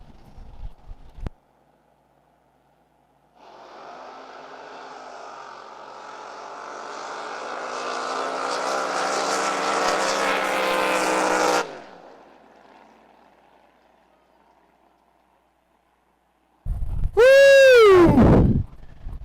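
Drag racing boats launch down the lanes with a sudden loud engine roar that builds steadily for about eight seconds, then cuts off abruptly, followed by quiet and a later burst of loud cheering and whooping.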